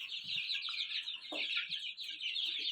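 Young chicks in a new coop keep up a dense, continuous high peeping and clucking, with a few soft low knocks and scuffs in between and no talking.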